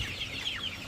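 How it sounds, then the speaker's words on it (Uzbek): Forty-five-day-old young chickens kept for sale cluck softly at a distance: one or two faint, wavering calls over a steady low background. "mana shunday chiroyli jo'jalarimiz sotuvda 45 kunlik"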